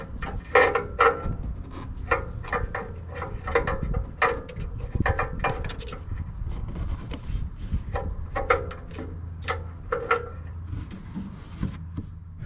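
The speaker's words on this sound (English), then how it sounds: "I'm going to be putting on a special socket over it" Metal socket clicks and scrapes as it is fitted over the air fuel ratio sensor on a 2005 Nissan Frontier, a series of close, irregular taps and rattles of tools against metal.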